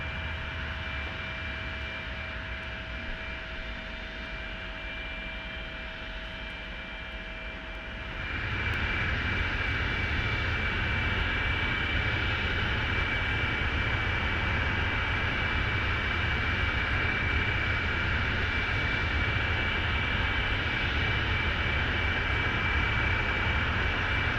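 Cockpit engine drone of a Hawker 4000 business jet in the X-Plane 11 flight simulator, a steady loud hum and whine that steps up in strength partway through and then holds constant.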